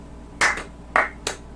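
Three sharp hand claps, the first two close together and the third after a short pause, made to sync picture and sound, crisp and near in a quiet room.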